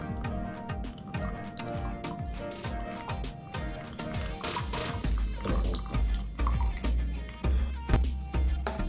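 A ground paste with a little water is strained for paneer butter masala, the liquid dripping and trickling steadily through the strainer with soft squishing and pouring sounds that grow fuller and louder toward the end.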